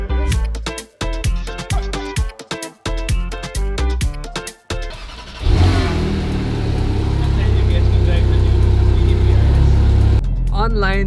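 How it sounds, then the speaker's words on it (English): Ferrari 458 GT3 sports car engine idling while warming up, close and loud, with a steady deep drone under the hum and a quick throttle blip at the end; a voice speaks over the opening seconds. "We are warming up the engine now so we can give it a few revs"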